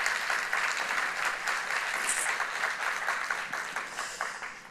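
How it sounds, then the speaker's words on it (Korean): A church congregation applauds at a Sunday worship service in Kuala Lumpur, Malaysia, a steady dense clapping that fills the room for several seconds and tapers slightly toward the end. "또 한번 영광의 박수 올려드리도록 하겠습니다"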